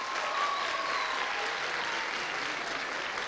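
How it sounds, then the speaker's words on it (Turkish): A studio audience at a school quiz show semifinal claps steadily, a dense, even wash of applause that holds at moderate loudness from start to finish, with no voices over it. "Bir alkış alıyorum onlardan."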